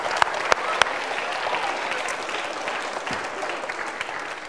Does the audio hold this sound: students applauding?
yes